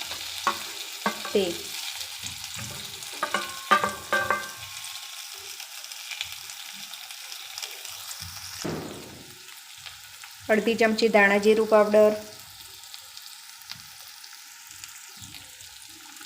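Cut potatoes tossed into a pan with cumin, asafoetida and turmeric give off a quiet sizzle with scraping stirs, and someone talks over it. Near the end comes a brief, louder burst of frying.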